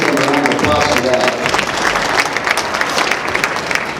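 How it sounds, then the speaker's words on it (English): An audience at a school's 2025 Snowball Assembly breaks into loud, sustained applause filling a large room, with voices mixed into the dense clapping throughout. "Let's give them a round of applause for that."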